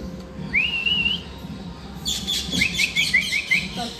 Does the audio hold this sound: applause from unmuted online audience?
no